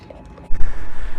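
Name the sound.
wind blowing into microphone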